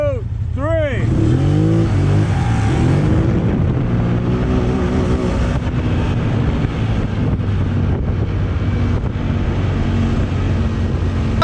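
A CFMOTO 1000 ATV and a Can-Am Outlander ATV launch hard in a drag race, with engines revving up through rising whines into a loud, steady roar that carries under wind buffeting on the microphone.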